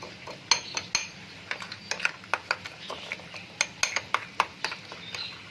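A spoon stirs browned onions into a dish in a pot, making a series of sharp, irregular metallic clinks and scrapes against the pot at close range.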